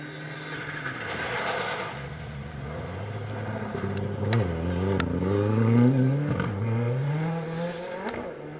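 A Ford Fiesta R5 rally car on a forest stage of Rally North Wales, its engine rising and falling through gear changes as it passes fairly close, with a few sharp clicks or pops and no talking.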